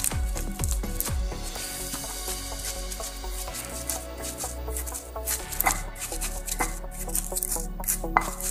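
A knife slices chicken intestine on a cutting board for a spicy stir-fry, a quick series of close, crisp chops and taps with no voices.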